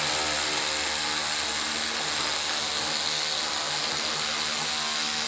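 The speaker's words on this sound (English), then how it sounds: "Let me take the rest of our screws out of here." A power tool drives screws out of a Lincoln MKT crossover while a damaged tire is being removed, giving a continuous close whirring and ratcheting drone at steady loudness with no talking.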